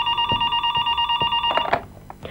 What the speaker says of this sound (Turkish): Telefon. Ya tam zamanında çaldı be.